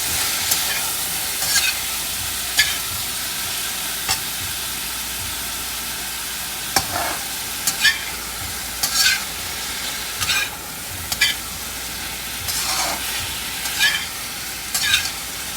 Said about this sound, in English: So I'm going to allow the okra to cook a little bit before I add in my tofu and my sauce.